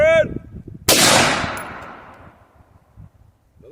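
A single close, very loud gunshot fired while testing Underwood ammunition cracks sharply and then rings out in a long, decaying echo, with brief speech just before it.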